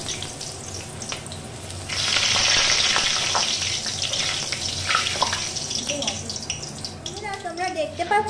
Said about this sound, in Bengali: এবার আমি বেগুনগুলোকে আস্তে আস্তে করে ছেড়ে দেবো